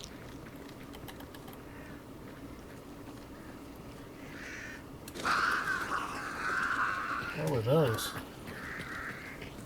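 Crows caw in a video game, a run of harsh rasping calls rising midway over keyboard tapping, with someone talking briefly and game noises around them.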